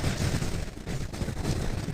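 Explosion hitting a robot in the mech combat video game War Robots: a dense, loud, continuous roar of blasts and gunfire-like crackle filling the whole moment without any talk.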